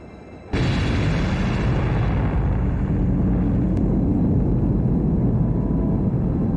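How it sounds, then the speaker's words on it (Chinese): A nuclear missile detonates in an airburst about 569 metres above the ground in a war drama, arriving as one sudden massive boom that holds as a dense, sustained roar and rumble for several seconds, loud and alone. "核导弹经过9分14秒的飞行，飞行距离894公里，精确命中目标，在离地面569米的预定高度实现核爆炸"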